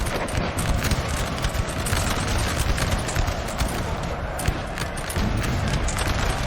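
Artillery and massed musket fire in the video game Napoleon Total War, a dense continuous barrage of booms and crackling volleys, loud and unbroken over the whole stretch.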